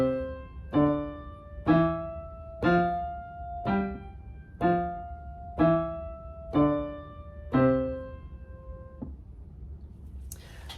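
Piano played with one hand staccato and the other legato: about nine evenly spaced short chords over sustained lower notes, a clear, moderately quiet solo performance ending in a held tone.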